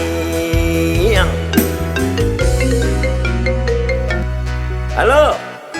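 A loud, melodic phone ringtone plays close by as a call goes unanswered, its tones repeating and sliding over a steady low hum, with a voice talking over it.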